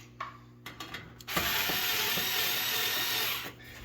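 A ratchet tightens nuts on a generator inlet box, with a few short clicks and then a continuous close, rapid ratcheting that lasts about two seconds.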